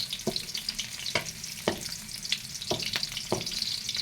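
Red onions frying in a pan, a continuous close sizzle broken by sharp scraping clicks of stirring at irregular intervals, with no talking.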